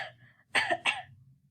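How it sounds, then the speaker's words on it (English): A woman with a cold coughs twice in quick succession, close and clear, after a short breathy sound, with no talking. "And you have a cough."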